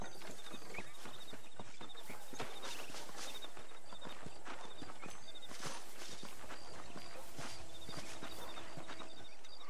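Horse hooves clip-clopping in Red Dead Redemption, a steady walking rhythm of sharp hoof strikes, close and continuous, over faint outdoor ambience.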